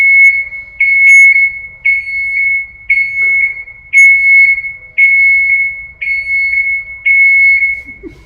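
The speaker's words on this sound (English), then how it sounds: "I'm sorry about the beep." A loud, close electronic alarm beeps repeatedly in a workshop, giving about a dozen sharp high tones at a steady pace, each with a slight falling tail, with almost nothing else heard between them.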